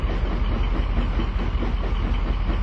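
A steam engine pulls out of a rail yard with a steady, dense rumble and low mechanical roar that holds at an even, fairly loud level throughout, with no voices.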